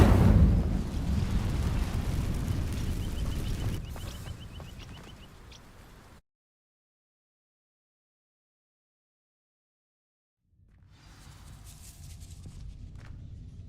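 An Incendio fire spell ignites dry vines in Hogwarts Legacy, a loud rushing roar of flame that slowly fades, then several seconds of silence before a fainter burst of activity returns.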